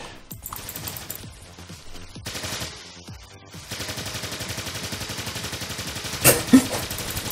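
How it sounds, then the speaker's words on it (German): Sustained machine gun fire sounds in the video game Project A.P.E. Rapid bursts of shots come in stretches broken by brief gaps, then settle into a steady continuous stream of fire. "Diese Schüsse verraten dich!"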